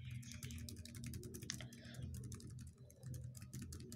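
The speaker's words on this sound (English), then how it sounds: "as if I will type something" Fast, steady clicking of computer keyboard keys, dense rapid taps with a brief pause near the end, close and fairly quiet with no talk.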